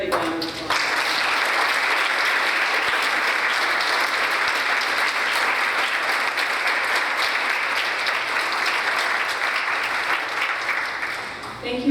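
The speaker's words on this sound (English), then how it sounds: "I'd like you to give them a big round of applause" A big round of applause from the audience at a youth mental health symposium, honouring the event volunteers; thick, sustained clapping starts abruptly and carries on steadily for about eleven seconds, easing slightly near the end.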